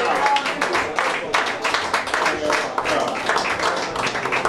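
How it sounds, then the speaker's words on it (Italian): Crowd applause for the rhythm section at a live blues night, dense clapping with sharp bursts carrying through the whole stretch, close and fairly loud, with voices mixed in. "un applauso anche alla sezione ritmica"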